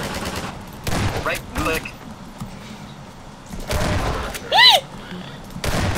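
Several loud shotgun blasts in Half-Life 2 at Nova Prospekt, spread out amid chaotic combat noise, with a player speaking briefly between shots.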